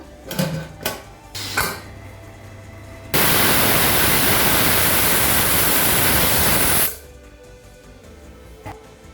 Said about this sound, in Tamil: இப்போ மூடி போட்டு குக்கர்லேருந்து 2 விசில் வந்தோடனே இறக்கி வச்சிடலாம்.